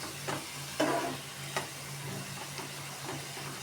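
Half-boiled radish and pomfret fish masala sautéed in a pan, giving a faint, steady sizzle with a few soft stirring scrapes, close but quiet, with no talking.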